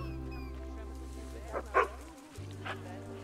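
Dogs barking in the zoo video game Planet Zoo, a few short barks and yips over a steady low hum of game music, faint and distant-sounding.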